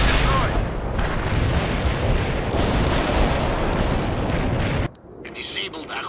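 Artillery barrage in the PC strategy game World in Conflict, heavy booming shell impacts and rumbling blasts pounding loudly for several seconds before cutting sharply to a quieter, thinner battlefield ambience.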